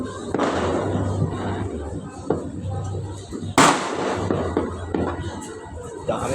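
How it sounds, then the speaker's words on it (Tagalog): Rapid, irregular bangs and crackles of firecrackers and fireworks going off continuously before midnight on New Year's Eve, with one sharp louder blast midway, some near and some distant. "Wala pang alas 12, ang dami na nagpaputok oh."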